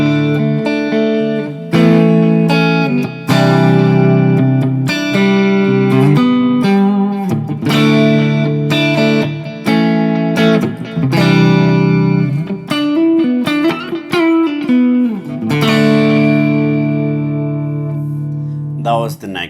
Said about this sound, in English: the clean sound here is on the neck with no pedals on.